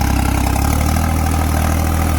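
A tractor engine idles loudly and close in a field of hard soil, a steady, even diesel throb holding without change for a couple of seconds, with no one speaking.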